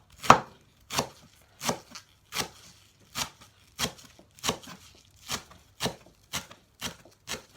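A knife chops garlic leaves on a cutting board for an omelette, with a steady, evenly spaced series of about fourteen crisp, close chops.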